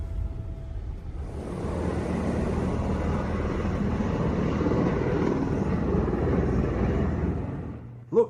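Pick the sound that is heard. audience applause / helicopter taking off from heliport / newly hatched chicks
helicopter taking off from heliport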